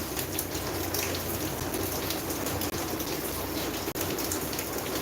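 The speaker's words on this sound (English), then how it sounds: "The rain is still unforgiving." Steady rain falls without a break through the evening, a dense, even hiss with two brief dropouts and no talk.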